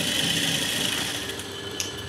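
Sewing machine stitching the band of a plain blouse; a steady, close, whirring run of rapid needle strokes, alone and unbroken for the whole short stretch.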